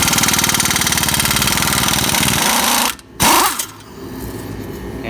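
A stubby Earthquake XT air impact wrench rattles loudly and steadily as it spins a lug nut off, cuts out briefly, then resumes its hammering whir nearby.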